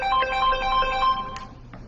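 An incoming call rings on a phone line during a radio call-in show: a short run of bright electronic ringtone chirps, repeated several times, clear and close.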